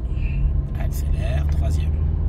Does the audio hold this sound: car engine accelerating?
yes